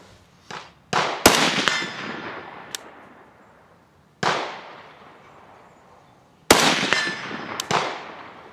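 AK rifle shots fired at a target on a range during zeroing at 100 meters: several sharp, loud cracks spaced irregularly, each with a long decaying outdoor echo, some in quick pairs.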